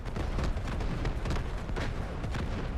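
Dense, continuous explosions and booming artillery fire from the Delta Force video game during a warfare match, loud and rumbling without pause.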